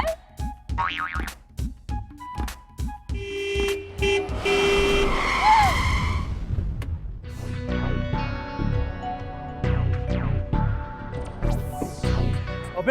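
A car approaching on a street with repeated horn honks and comic boing-like effects, a busy series of sharp toots and sweeps over engine noise, fairly loud and close throughout.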